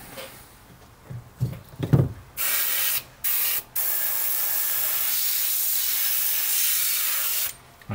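A few soft knocks and handling noises, then a steady airbrush hiss sprays paint on a model ship continuously for several seconds, pausing briefly twice before resuming.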